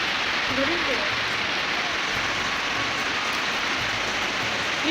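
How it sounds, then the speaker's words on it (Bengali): Steady rain falls with a dense, even hiss, close by, with faint indistinct voices and low background sounds underneath. "বৃষ্টিটা হচ্ছে রে"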